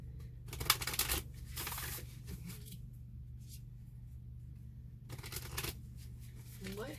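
Bursts of crisp riffling come in short clusters, the flutter of a deck of cards being shuffled, with quieter pauses between and a steady low hum beneath.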